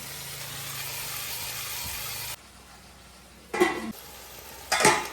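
Fried eggplant sizzling in a pan, then going quiet before spiced yogurt goes in, followed by two brief bursts of scraping and clatter as it is added and stirred.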